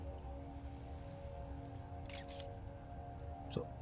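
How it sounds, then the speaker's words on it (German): A camera shutter clicks once while a photo is taken in the video game Satisfactory, a short sharp snap over a steady background hum. "Ich habe ein Foto geschossen."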